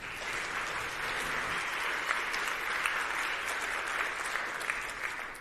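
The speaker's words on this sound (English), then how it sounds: "can we give a 10 out of 10 applause and welcome to the wonderful Kiryl" Sustained applause from a conference audience in Krakow welcoming a speaker on stage, a steady dense clapping wash that holds evenly for several seconds.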